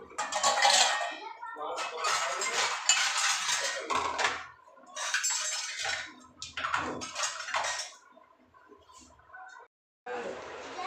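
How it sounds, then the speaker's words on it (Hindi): Freshly washed utensils are set into a dish rack in a home kitchen, making bursts of metallic clatter and clinks with short pauses between them. A voice speaks at times. "तो 2-4 बर्तन है इन्हें लगा दूँ रैक में।"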